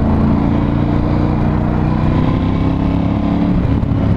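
The exhaust of a Ducati Scrambler 1100 Special motorcycle gives a deep, throbbing roar, loud and close throughout, with nobody speaking.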